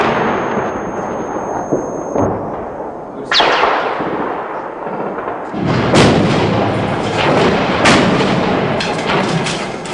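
Heavy incoming fire and mortar hits around a besieged hotel in wartime Sarajevo: loud, sharp gunshots and booming impacts crack out repeatedly, some single and some in quick bursts, with echoing rumble between them.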